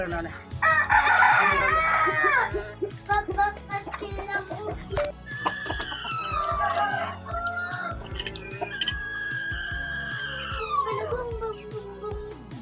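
A rooster crows loudly near the start, followed by hens clucking and further drawn-out crows, with a voice speaking intermittently underneath.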